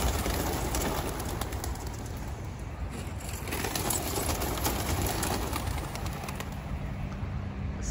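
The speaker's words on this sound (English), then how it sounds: "Going to release his birds." Seventy racing pigeons let out of a crate for a 42-mile toss, a dense rush of wing flapping and bird noise that fills the whole stretch. It stays steady and fairly loud outdoors.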